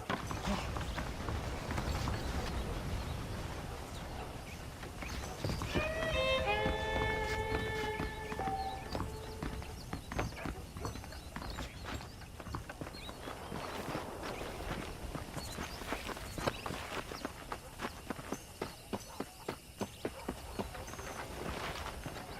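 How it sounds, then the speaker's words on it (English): Horse hooves clip-clop steadily on a ranch in the Red Dead Redemption video game while riding, a continuous rhythmic trot under game music and ambience, with a brief whinny midway. "let's see if you can still ride a horse"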